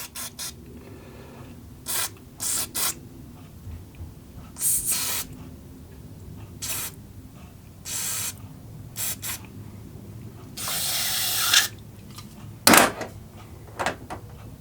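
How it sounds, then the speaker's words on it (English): Brake cleaner sprayed in short, sharp hissing bursts onto a two-stroke generator part, with quiet gaps between squirts and one longer spray near the end, close by, with no speech. "We'll cover it in brake cleaner anyway."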